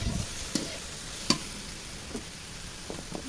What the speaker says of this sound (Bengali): সর্ষে জিরে পেঁয়াজ রসুন ঝাল একসঙ্গে বেটে না বাটনাটা দিয়ে নাড়াচাড়া করে নিচ্ছি